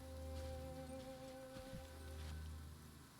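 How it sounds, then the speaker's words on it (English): Steady rain falls in the video game Genshin Impact, a soft continuous patter underneath a low, steady game music bed. "Oh, it's raining."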